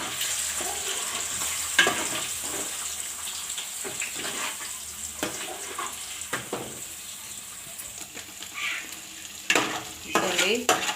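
Homemade masala powder being stirred into noodle seasoning in a pan, with scraping spoon strokes over a steady sizzle and occasional louder clanks against the pan, close and continuous without speech.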